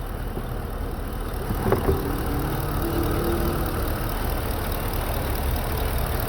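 Chevy SS with an LS3 V8 idling, suspected of a noise from the rear cylinder 7. A steady, even engine drone runs throughout at moderate level with no distinct knock standing out.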